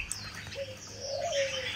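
A caged fighting songbird calls in the morning, giving soft cooing and chirping notes with a brief rising whistle, faint and close, with no talk over it.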